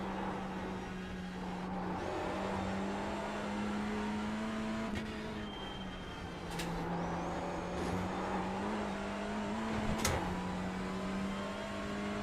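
A TCR-class race car at the Nürburgring 24 Hours drones steadily from inside the cockpit, its engine note holding and shifting through gears with sharp clicks and knocks over a long continuous run, with no talk.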